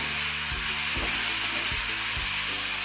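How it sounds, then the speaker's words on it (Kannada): Spinach (palak) frying in hot oil in a pan for palak pulao, a steady close sizzle broken by several soft stirring bumps, with no talking. "ಪಾಲಕ್ ಸೊಪ್ಪು ಚೆನ್ನಾಗಿ ಎಣ್ಣೆ ಫ್ರೈ ಆಗಿತ್ತು"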